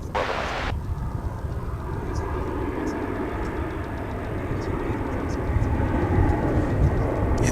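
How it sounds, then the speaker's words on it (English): A Volaris airliner arriving from Guadalajara at DFW airport makes a steady, broad jet roar that swells slightly toward the end, heard from the ground at a moderate distance. "Next flight coming in will be from Guadalajara"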